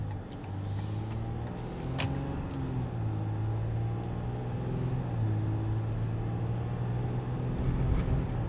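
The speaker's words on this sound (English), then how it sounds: "so we are on the road, we are driving, the vehicle drives well" A Dodge Ram truck with a clogged diesel particulate filter drives along the road, heard from inside as a steady low engine and road rumble throughout, with no talk.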